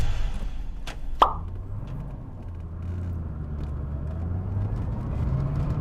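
A sharp click, then a low, steady engine rumble from a 1995 Chevrolet Corvette ZR1 that swells slightly as the car moves off, heard from inside.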